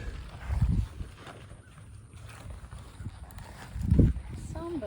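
A horse's hooves clip-clop on the ground as she is led back to the saddle, a few soft irregular thuds among outdoor noise, with people talking throughout.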